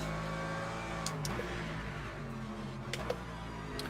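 LMGT3 race car engine accelerating in a sim racing game at the Algarve circuit, a steady mid-pitched engine drone building gradually, with faint clicks over it.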